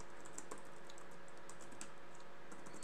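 Light, irregular clicks of typing on a computer keyboard while writing Python code, soft and close with no talking.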